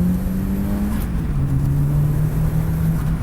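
Ian Blundell's front-wheel-drive RS Turbo pulls hard through the gears, a steady engine drone whose pitch dips briefly at each shift before climbing again, loud and close with no voices.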